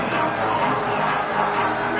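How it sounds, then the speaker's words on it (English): A loud stadium crowd roars and cheers continuously at a Texas Tech college football game on a third down, a dense steady wall of noise. "Guns up, and so is the noise. The crowd electric"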